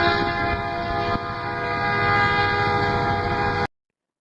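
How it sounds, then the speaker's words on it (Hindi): A train rumbles past with a long, steady horn blaring over the rolling noise of its wagons, loud and continuous, then cutting off abruptly. "Number 7, train."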